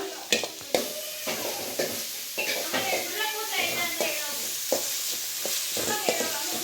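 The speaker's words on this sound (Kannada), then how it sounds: "ಹೀಗೆ ಸ್ವಲ್ಪ ಕೊತ್ತಂಬರಿ ಸೊಪ್ಪು ಇಷ್ಟು ಹಾಕಿ ಫ್ರೈ ಮಾಡ್ಕೊಂಬಿಡೋಣ" Chopped onions and coriander leaves fry in a pan for a chicken sambar, a steady sizzle broken by sharp scraping stirs, with a voice talking over it.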